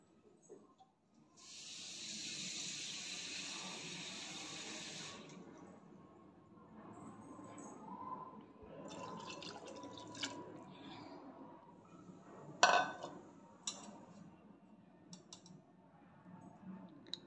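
Water poured from a cup into rice and lentils in a pot for rasam, a steady splashing pour lasting a few seconds, followed by quieter clinks and small handling sounds.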